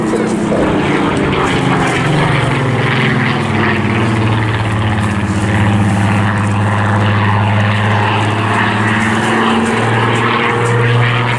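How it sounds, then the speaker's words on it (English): Supermarine Spitfire with its Rolls-Royce engine flying at the Eastbourne Airshow, a loud, steady propeller-engine drone with a deep throbbing hum that holds throughout. "representing the heritage of the Spitfire, which as we know, but also the Rolls-Royce engine that powers it."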